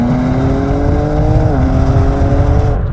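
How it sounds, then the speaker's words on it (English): Exhaust of a BMW M4 Competition fitted with a petrol particulate filter, a loud steady engine drone with a brief dip in pitch partway through, close and continuous, with no talking over it. "the exhaust noise."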